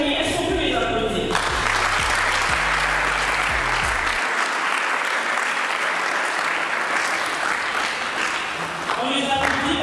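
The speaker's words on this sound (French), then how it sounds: "Est-ce qu'on peut les applaudir?" An audience at a women's eloquence contest in Lubumbashi breaks into steady, sustained applause. Music plays at the start and briefly at the end, and light talk runs underneath.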